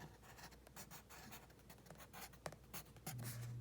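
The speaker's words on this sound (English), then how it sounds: "I'm going to write shirt color" A pen writing a label on paper, soft scratchy strokes in quick irregular bursts, close and quiet, with no talking.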